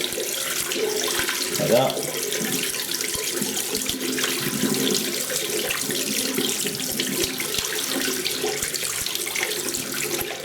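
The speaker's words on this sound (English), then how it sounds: "Get the hot water, as hot as it will go, and then just rinse the blade" Hot water runs from a tap in a steady close stream while a safety razor blade is rinsed beneath it; a voice briefly speaks over the flow.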